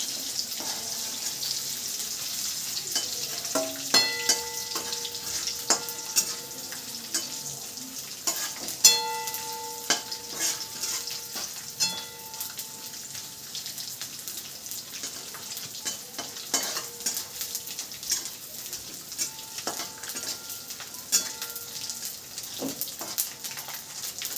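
Bombay duck (bombil) fish fry in a pan, sizzling steadily throughout with clinks and scrapes of a utensil and a running tap, no talking.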